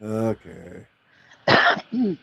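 A person coughs in a short, harsh burst between bits of conversational speech, close to the microphone.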